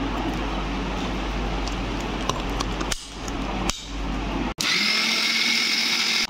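A mixer grinder blends coriander, cumin, mustard seed, ginger, black pepper and garlic into a spice paste for rui fish kalia. It makes a loud, steady motor whir with brief dips, then a sharper, higher whine after a short stop.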